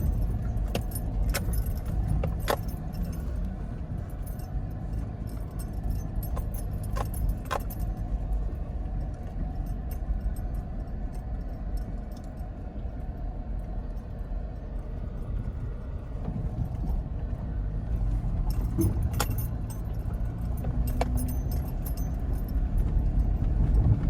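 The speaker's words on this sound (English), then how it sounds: "You're just crawling in first gear." An off-road vehicle crawls in first gear over a rough trail in Utah. Its engine gives a steady, low rumble, with occasional rattles and clinks from the bouncing cabin.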